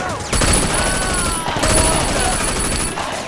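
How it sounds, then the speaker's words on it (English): Gunfire in the video game Sleeping Dogs comes as a loud, nonstop burst of rapid shots with ringing game tones layered on top, filling nearly the whole stretch, with no talk. "Can I just blindly shoot like that?"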